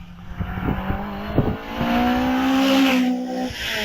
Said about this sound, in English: Zoe Sheerman in the Lotus Exige.